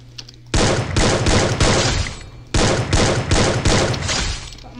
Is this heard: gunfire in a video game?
yes